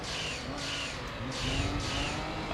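Racing cars in a video game, including a Corvette and a Camaro, roar steadily with engine drone and revving, loud and close throughout, with brief tire noise.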